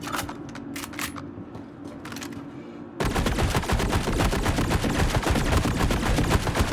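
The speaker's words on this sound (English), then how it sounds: "Now there are these new turrets that were never here before. There's one right there you can see shooting at us" Enemy turrets firing in the Star Citizen video game: after a few seconds of sparse, distant shots, a sudden sustained barrage of rapid automatic fire begins and continues loudly to the end.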